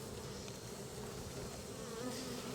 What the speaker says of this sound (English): as I watch these bees fall over into this cup